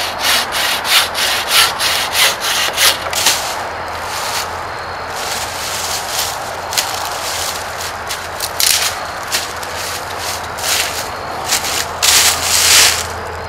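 Bucksaw cutting through a dry hardwood log, a fast rhythmic rasp of repeated push-pull strokes, loud and close, steady for the whole stretch with no talk.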